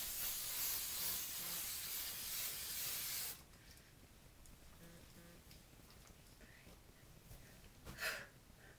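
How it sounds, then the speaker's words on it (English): Hairspray hisses from an aerosol can onto curled hair in one long, close burst lasting about three seconds, then stops, leaving quiet room tone with a brief sharp puff near the end. "just kind of put as much hairspray as you feel your hair needs to keep curl"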